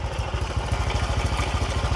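Close, steady running of a Honda Dash motorcycle engine, a low rhythmic putter with mechanical clatter at a fast idle and no voices.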